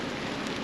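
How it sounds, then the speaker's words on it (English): Light sprinkly rain falls outdoors on an off-grid property, a steady soft hiss of drops on surfaces, continuous and close with no talking. "It's not raining too bad in here. Not terrible. It's kind of sprinkly."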